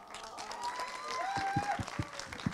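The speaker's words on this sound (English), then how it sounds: "Can we have a bigger round of darling applause?" An audience applauds at a film festival event in Mumbai, a steady patter of clapping hands with scattered sharper claps, heard together with a voice speaking over it.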